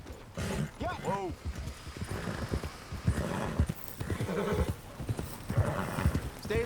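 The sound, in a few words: horse hooves and whinny in the video game Red Dead Redemption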